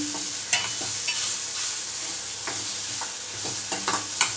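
Green chillies fry in oil in a pan, a steady soft sizzle broken by several sharp clicks and scrapes of a spatula stirring, close by with no voices.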